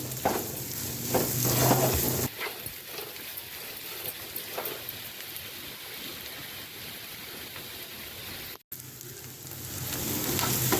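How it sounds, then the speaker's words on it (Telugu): Onion pieces frying in oil until browned, a continuous close sizzle with intermittent stirring scrapes, louder in the opening seconds, then steadier and quieter, with a brief dropout near the end before the sizzle resumes. "ఈ ఉల్లిపాయ ముక్కలు ద్వారగా వేపాలండి కలర్ వచ్చేంత వరకు"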